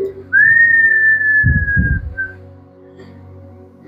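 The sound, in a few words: gentle whistle imitated by speaker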